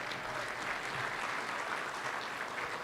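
Applause at a community men's breakfast event, steady clapping from a gathered crowd, moderately faint and continuous for a few seconds.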